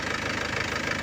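An Isuzu Crosswind diesel engine idles with a low-power fault, and the turbo whistles faintly. It gives an even, continuous rumble with a slight knocking pulse, close and steady.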